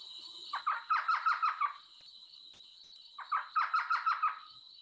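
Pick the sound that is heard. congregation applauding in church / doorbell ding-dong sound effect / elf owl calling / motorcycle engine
elf owl calling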